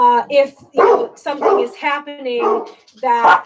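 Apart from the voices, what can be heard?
dogs barking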